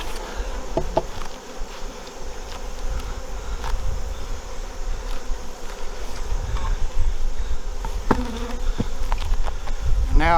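Honey bees buzz steadily and densely throughout a beehive inspection in August, a continuous close swarm drone with a few brief knocks and clatters of hive equipment, and no talking.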